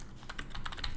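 Quick bursts of typing on a computer keyboard, several close, crisp key clicks in an uneven rhythm, heard alone without talk.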